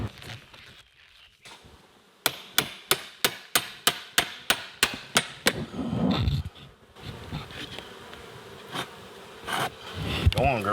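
A honey bee colony buzzes during a bee removal in Alabama, a steady close hum beneath a run of sharp, evenly spaced knocks, followed by rustling and scraping.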